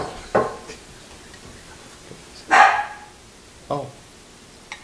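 A dog barks three sharp times with gaps between, plus a small yip at the end, fairly loud and close indoors with no talk.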